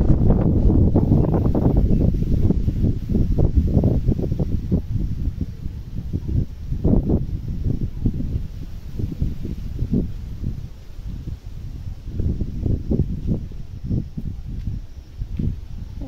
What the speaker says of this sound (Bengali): কালো মেঘ, বৃষ্টিটা থেমেছে, পুরো হাওয়া বয়েই যাচ্ছে।